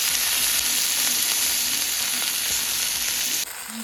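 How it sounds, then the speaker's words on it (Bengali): Okra frying in oil with dried chillies in a wok, a loud, dense, steady sizzle that holds at the same level throughout and then drops slightly at the very end. "কড়াই প্রথমে তেল শুকনো লঙ্কা দিয়ে আমি টক ঢ্যাঁড়সগুলো দিয়ে দিয়েছি।"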